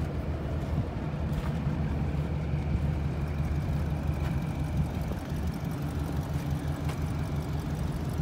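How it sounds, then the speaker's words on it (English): A crew cab truck's engine idles roughly with a noticeable skip, a steady low rumble with uneven pulsing, close and continuous with no talk. "It runs poorly. It has a very noticeable skip."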